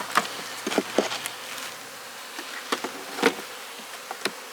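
Honey bees from a small open colony, a hive being checked for a virgin queen, buzz faintly in intermittent short bursts close by, with quiet gaps between the passes.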